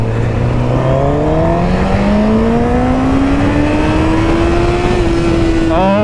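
A 2017 Honda CBR 1000RR motorcycle engine pulls up through the revs in one long, steady rising drone, loud and close under heavy wind rush, with a quick shift near the end.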